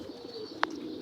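Gift pigeons on a rooftop coo softly in a brief, low murmur over faint background hum, with one sharp tick partway through.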